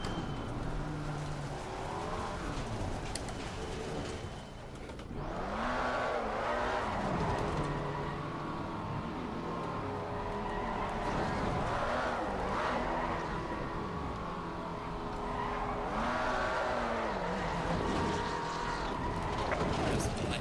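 A McLaren 570S GT race car in Assetto Corsa Competizione revs repeatedly while spinning donuts, the engine note rising and falling in cycles, loud and continuous with someone talking over it.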